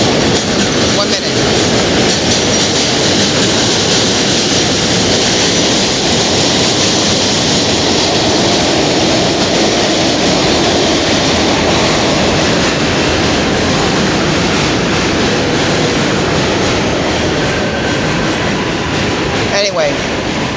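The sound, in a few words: subway train passing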